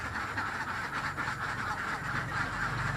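Many ducks quacking in a crowded duck pen at Pangunan, a steady, dense chorus of overlapping quacks close by, continuous throughout with no clear pauses.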